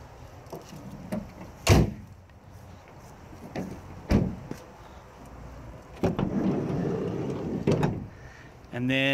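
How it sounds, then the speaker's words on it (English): The sliding side door of a 2013 Ford Transit Connect van rolls and bangs in a series of clunks and thumps, close by, with a person speaking quietly between the knocks inside the van. "And then there's the other sliding door."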